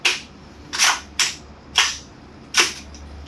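A Savia PCC carbine with the MWS system firing five sharp shots in an uneven rhythm, each a crisp bright crack with a short decay, close and loud with no talking.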